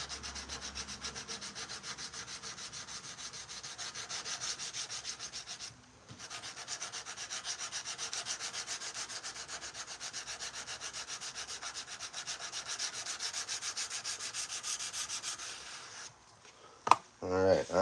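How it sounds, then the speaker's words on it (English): A forged blade of wrought iron being hand sanded with steady, rapid back-and-forth rasping strokes, close and continuous with a brief pause midway, ending with a few handling knocks and a moment of speech. "the wrought iron is the majority of the surface area that I'm having to grind or sand"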